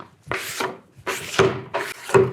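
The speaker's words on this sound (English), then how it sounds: "Now that we've scraped the board" A scraper draws old wax off a kiteboard in three long, steady strokes, each a rough, rasping scrape with a short pause between. The sound is close and fairly loud, and no one speaks.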